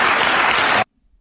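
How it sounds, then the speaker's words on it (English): Studio audience applause at a talk show, a loud, dense burst of many hands clapping that cuts off abruptly after under a second, leaving near silence. "Applause!"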